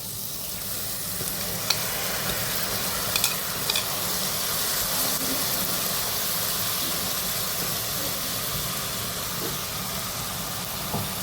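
Rice is fried with onions and masala in a pan for a quick lunch-box dish, giving a continuous sizzling hiss with scattered scraping clicks of a spoon stirring against the pan. The sound is close and steady with no voices.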